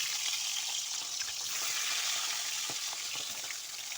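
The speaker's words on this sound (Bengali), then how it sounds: "এবার আমি একে একে মাছগুলোকে দিয়ে ভেজে নিচ্ছি।" Hilsa fish pieces frying in hot mustard oil, village-style home cooking, give a steady, dense, close sizzle and crackle that runs unbroken throughout with no voices.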